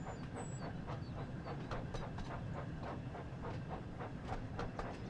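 Thomas the Tank Engine rolls along in the Wonders of Sodor game, a steady rumbling train with rhythmic clickety-clack beats and a faint hiss, continuous and fairly loud.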